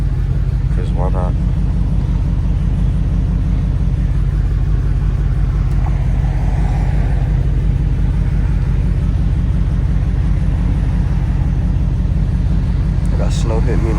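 The engine of a 2010 Ford Mustang GT drones as the car is driven in cold, snowy weather around Boone, a loud, constant low rumble with a few faint clicks over it.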